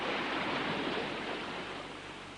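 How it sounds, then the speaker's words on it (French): The sea-like rush heard inside a seashell is a soft, steady hiss of broadband noise that fades slightly toward the end. No voices are present. "je peux passer des heures à écouter le bruit des vagues"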